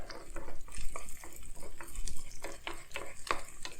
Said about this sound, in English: I'm just going to take the cooked edges and scoot them inward so that some of that inner egg that's not cooked can find its way out